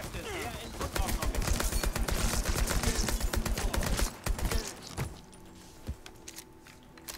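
Heavy gunfire and explosive rocket launcher blasts from Mafia III pound loudly for about four seconds in a dense, chaotic barrage, then give way to a quieter stretch with a few scattered impacts; a voice speaks under the din.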